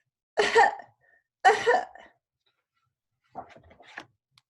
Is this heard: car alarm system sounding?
no